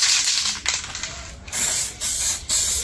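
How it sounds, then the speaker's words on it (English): An aerosol spray paint can coating a VW T4 van part: loud, close hissing bursts of spray, several short blasts separated by brief pauses and clicks of the nozzle. "given them a wipe down, give them a quick spray"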